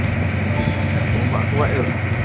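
A fishing boat's engine running steadily on a trip near Aru Island, a loud, constant low drone that fills the background with no break.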